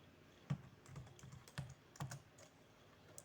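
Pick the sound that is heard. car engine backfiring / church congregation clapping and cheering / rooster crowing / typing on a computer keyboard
typing on a computer keyboard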